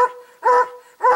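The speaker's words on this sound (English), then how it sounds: "Barking?" Dog barking near brown bear country in spring, three loud close barks in a steady rhythm about half a second apart, with no other sound between them.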